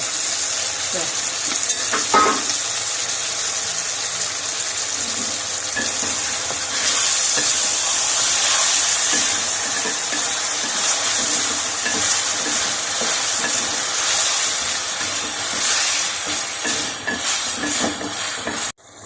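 Chicken pieces for tikka macaroni sizzle steadily in a hot pan while being stirred, a dense frying hiss with scraping stirs throughout, loudest in the middle stretch and cut off abruptly at the end.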